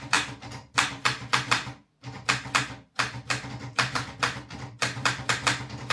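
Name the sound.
typing on Olivetti Studio 45 typewriter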